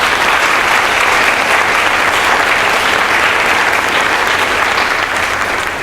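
A high school concert audience gives a loud, sustained round of applause for orchestra students, many hands clapping in a dense, continuous wash filling the hall from start to finish.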